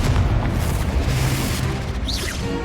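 A Confringo spell explodes in Hogwarts Legacy as a loud, rumbling boom that fills the whole moment with dense roaring noise, close and forceful, with a faint whistling flourish near the end.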